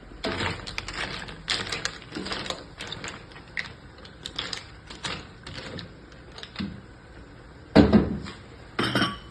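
Cooked sea clams stirred in a pot, their shells knocking and scraping against the metal and each other in irregular clattering bursts, with a louder rattling flurry near the end.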